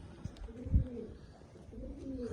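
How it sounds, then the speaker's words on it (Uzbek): Soft, low pigeon coos repeat in two drawn-out phrases, close by, with faint background noise and no talking. "Kaptari ko'ringlar."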